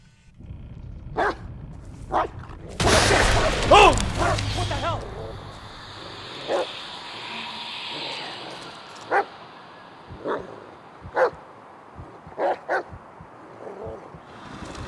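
The dog Bullet in the Blair Witch game barks in sharp, separate bursts spread across the clip, with some yips and whimpers, near and fairly loud over a dark, low ambience, with one loud rush of noise early on.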